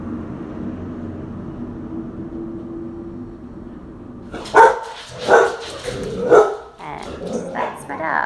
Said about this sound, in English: Dog. Just a little protective.